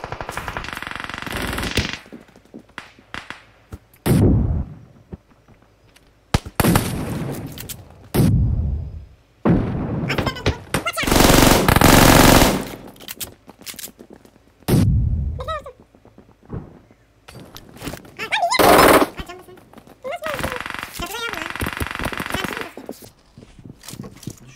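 PUBG Mobile gunfire comes in loud rapid bursts and single sharp shots, broken up by quieter gaps, with brief talk between the volleys.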